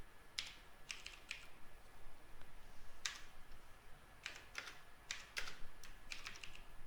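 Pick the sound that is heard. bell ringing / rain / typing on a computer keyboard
typing on a computer keyboard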